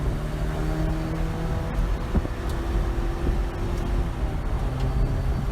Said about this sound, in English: it sounds like the engine's loping